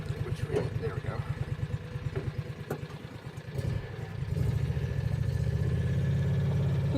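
A Gator utility vehicle engine runs at idle with a steady low rumble, dipping briefly before settling into a fuller, constant drone, with people talking over it.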